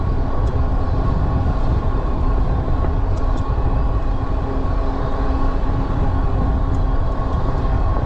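Heybike Mars 3.0 full-suspension folding electric bike with its motor working up a hill, a steady whine blended into constant broadband rushing noise that holds loud and even throughout.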